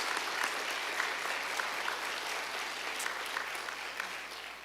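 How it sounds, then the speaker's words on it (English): Steady, moderately distant applause from the audience at a county board of education Teacher of the Year ceremony honours the finalists, with no voices over it. "Let's give them all a round of applause."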